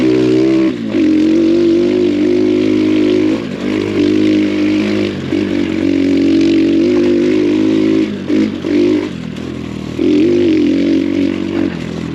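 An X Pro Storm 150 DLX ultralight dual sport motorcycle rides a tight trail, its small engine droning loud and close, rising and dipping with brief throttle lifts and revs, with clattering and scraping from the terrain.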